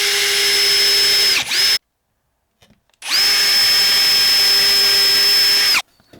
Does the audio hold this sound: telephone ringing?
no